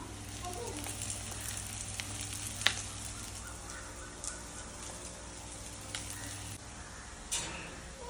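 Chicken frying in a pan with onion and coriander leaves gives a steady, moderate sizzle, with a few faint ticks and clinks and a low hum running behind it.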